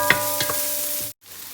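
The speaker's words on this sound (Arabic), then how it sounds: "البصل لما يتحمر كده" Onions frying and being stirred in a pan for biryani, a steady sizzle with a few scraping stirs, cutting out abruptly near the end.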